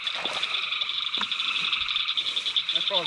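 A frog croaks steadily and close by at night during frog gigging, its continuous raspy calls running the whole stretch, with a few soft human sounds in the background.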